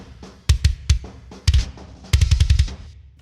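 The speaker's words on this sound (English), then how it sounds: "here's our kick sound" A finished metal kick drum run through a limiter, firing a few tight punchy hits and then a quick flurry of clicky, bassy strikes, loud and dry with nothing else.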